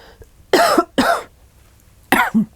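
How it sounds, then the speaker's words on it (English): Three sharp, close coughs: a quick pair, a pause, then one more with a rough throaty tail. "Excuse me, I got a cough."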